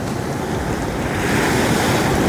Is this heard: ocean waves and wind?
yes